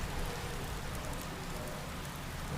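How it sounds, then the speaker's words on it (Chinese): Rain falls steadily in a dense, even patter of drops on surfaces, with no other sounds. "下雨了，"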